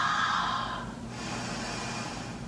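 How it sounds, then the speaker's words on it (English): Deep, forceful clearing breaths during a prenatal power yoga stretch, with a long airy exhale that softens and continues more quietly, close and alone. "this is good where you can do some really clearing out breaths"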